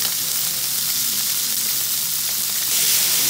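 Chicken pieces fry in a wide paella pan, giving a steady, loud sizzle and hiss from start to end with no voices.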